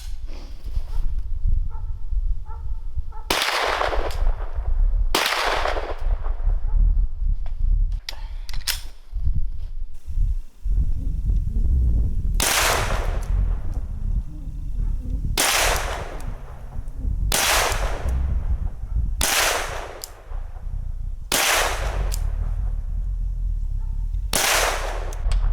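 Sharp gunshots from a Glock 17 pistol fitted in a Roni 16-inch carbine conversion kit ring out outdoors, about nine loud spaced reports with a few quick pairs, each trailing off over steady background rumble.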